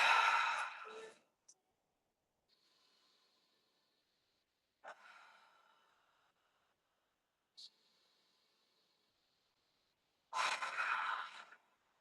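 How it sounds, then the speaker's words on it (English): Deep breaths are taken during a pilates stretch on a mat: three slow, close inhales and exhales with long quiet pauses between, and faint background noise. "Let's take 3 deep breaths here."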